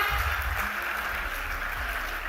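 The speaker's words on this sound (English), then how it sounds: "Can we give all of them a big round of applause, ladies and gentlemen?" A crowd applauds at an awards ceremony honouring Indian women in aviation, a continuous, even patter of many hands clapping throughout, fairly full and sustained with a low rumble beneath.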